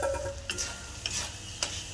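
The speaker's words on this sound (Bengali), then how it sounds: "এবার দিব ভেজে রাখা আলু" Fried potatoes are stirred into a frying spice mix in a pan, a low steady sizzle punctuated by three or four crisp spatula scrapes and taps at a regular pace.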